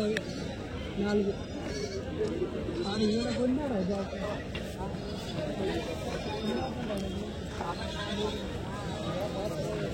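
Goats bleat several times over a noisy outdoor weekly livestock market in Kadiri, with people talking nearby throughout.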